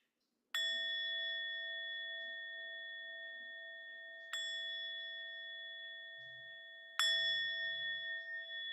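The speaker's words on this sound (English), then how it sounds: "I'm going to gently ring a bell now to close this practice." A meditation bell is struck gently three times, each clear ringing tone sustaining and slowly decaying into near silence before the next strike.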